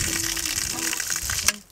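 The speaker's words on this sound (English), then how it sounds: "we're gonna put water in the freshwater tank" Water gushes steadily into the freshwater tank of a Winnebago Micro Minnie travel trailer, a loud, continuous rushing fill that cuts off abruptly near the end.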